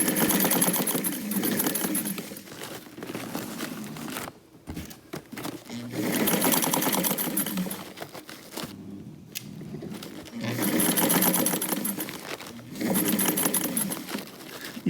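A sewing machine stitches a garment at ten stitches per inch, running in several rapid mechanical bursts of rattling clatter separated by brief pauses.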